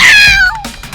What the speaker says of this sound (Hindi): उसे एक बिल्ली अपनी तरफ आती नजर आई